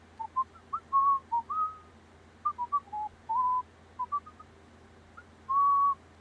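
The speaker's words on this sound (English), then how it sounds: "The mic mutes my whistling." A person whistles the Wild Arms theme song as a string of short and sustained clear tones in a tuneful, uneven rhythm, close and fairly clean over a faint low hum.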